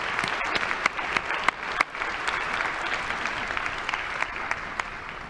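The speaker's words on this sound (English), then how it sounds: "round of applause." An audience at a winter commencement ceremony applauds the graduates' families: sustained, fairly distant clapping from a large crowd, with individual sharper claps standing out from the steady wash.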